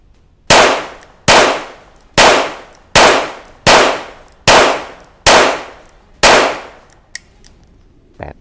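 Eight sharp, loud reports from a Taurus 942 revolver, fired at an even pace about a second apart, each with a short decaying tail, followed by a couple of faint clicks.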